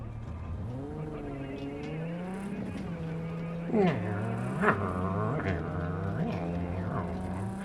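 A person vocally imitates a car engine revving and tires screeching, with rising and falling tones repeated several times in quick bursts, over Cyberpunk gameplay.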